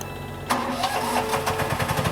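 A JLG M600 lift's engine starts abruptly after a quiet moment, then settles into a steady mid-pitched running drone with a rhythmic pulse, heard close and alone.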